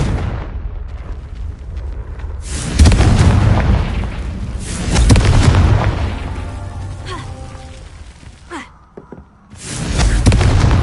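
Confringo blasting-spell explosions from the Hogwarts Legacy video game erupt in several loud, heavy booms, each rumbling out over a few seconds, with a brief quieter gap before the last blast.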